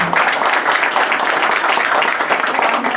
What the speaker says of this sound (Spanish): Y el aplauso, por supuesto.